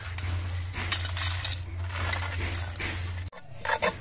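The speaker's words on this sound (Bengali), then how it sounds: "এবার এই রসুনগুলো আমি একটা গামলার মধ্যে নিচ্ছি।" Dried garlic pieces tipped into a bowl, giving a steady run of light clinking and rattling followed by a brief pause and a few scattered clinks, close and fairly quiet.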